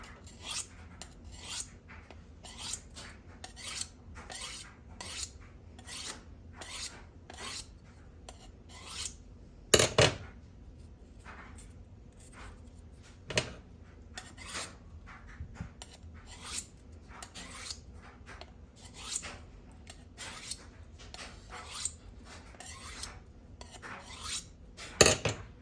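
A kitchen knife is drawn along an abrasive sharpening steel in a long series of quick raspy strokes, soft and close, with a few sharper metallic scrapes mixed in and no talk.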